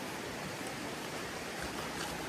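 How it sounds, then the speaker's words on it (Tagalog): Strong river current rushes in a steady, dense wash of water noise, close and unbroken, with no voices. "Di ba malakas yung agos?"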